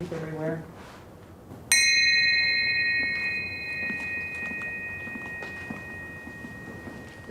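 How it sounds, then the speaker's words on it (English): A peace bell rung once at a memorial gathering, a bright clear strike that rings on with a long sustained tone, heard after a brief voice and under quiet background murmur. "Now we invite all of you to come forward and ring the bell of peace."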